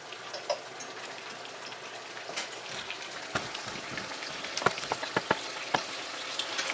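Tofu sizzles and spits in a hot pan, a soft steady fry punctuated by sharp crackles and pops that grow more frequent toward the end.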